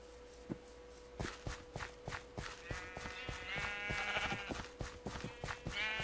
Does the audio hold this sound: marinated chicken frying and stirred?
no